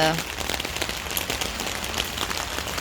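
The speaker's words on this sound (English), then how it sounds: "All this rain is coming down." Rain pouring down onto a rain barrel setup with diverters, a dense, steady patter of drops on surfaces filling the whole stretch, close and even with no break.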